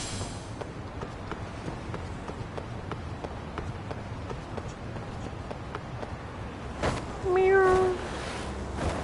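A cat meows near the end of a scene in the video game Lost Judgment, one short rising call standing out over steady game background noise with faint footsteps.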